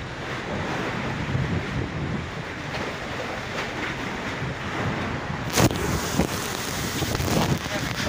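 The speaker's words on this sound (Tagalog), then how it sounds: "Gawa ng sobrang lakas ang hangin." Strong wind buffets the microphone at sea while high waves surge and crash around a fishing boat, a loud, gusty roar with sharp splashing bursts midway and toward the end.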